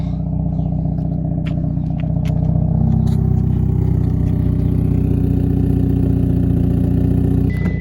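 A car engine idles with a steady, deep rumble throughout, close by and fairly loud, with faint clatter on top.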